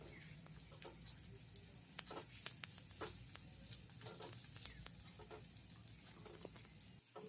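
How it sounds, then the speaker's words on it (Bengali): Onions sizzle gently while frying in a pan, a low, even hiss broken by small pops and stirring scrapes, heard alone. "পেঁয়াজগুলো ভালোভাবে ভাজা হয়ে এসেছে"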